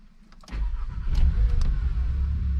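Turbocharged VW Scirocco with a newly fitted large performance air filter and silicone hoses, its engine starting up and settling into a steady, loud, deep idle close by.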